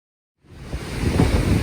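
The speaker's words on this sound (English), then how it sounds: "I'm trying to show you the difference between how the air affects, or the wind affects dirt and land" Strong wind roars over open dirt and land as a storm expected to bring 140 mph gusts arrives, rising from silence into a loud, continuous rushing blast.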